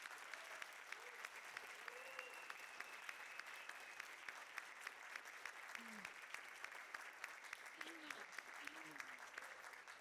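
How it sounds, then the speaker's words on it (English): Audience applauding five contestants at a speech contest in a hotel venue, steady rhythmic clapping throughout with faint voices calling out beneath it. "Let's please give a round of applause for our 5 contestants"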